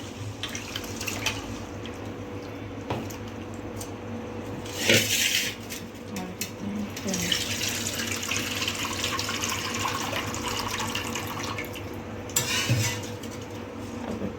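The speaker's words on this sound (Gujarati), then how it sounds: "આપણે હવે 2 પાણીએ ધોઈ લઈશું।" Water splashes and swishes in a vessel as lentils and rice are rinsed, with a few louder sloshing bursts and clinks against a steady running-water background.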